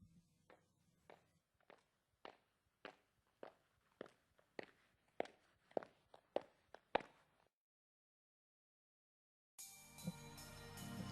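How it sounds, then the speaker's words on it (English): Footsteps from the video game Steins;Gate: a series of about fifteen sharp, evenly paced steps growing louder and closer, then silence before a burst of other sound. "I should be hearing footsteps soon"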